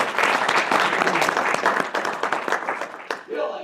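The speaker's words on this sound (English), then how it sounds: "how about a big rousing round of applause here for Kilo Hotel 6 Oscar Bill Kendall" An audience at an amateur radio club presentation breaks into dense, close applause for the guest speaker, steady clapping that thins toward the end, with a voice faintly under it.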